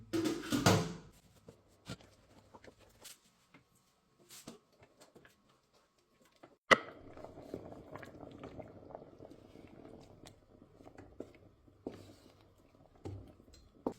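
About two kilograms of tomatoes with a little water boil in a covered pot on a stove, giving sparse bubbling pops and crackles with a few louder clatters, close and fairly quiet.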